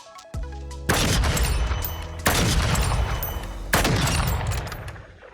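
An SPX80 sniper rifle fires in Call of Duty Modern Warfare 2 with three loud, sharp cracks spaced evenly about a second and a half apart, each one followed by a rumbling tail. A softer thump comes just before the first shot.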